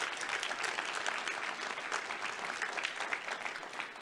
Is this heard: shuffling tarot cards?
no